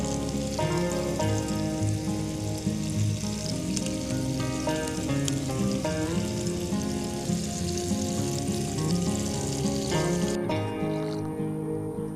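Squirrel meat frying in a pan, dense continuous sizzling and crackling with steady loudness that thins out abruptly near the end.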